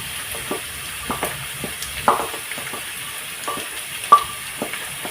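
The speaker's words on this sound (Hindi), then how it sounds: "अब हम इसमें डालेंगे लहसुन अदरक का पेस्ट" Ginger garlic paste hits browned onions in a pan, giving a soft, steady frying sizzle broken by occasional clinks and scrapes of a spoon against the pan.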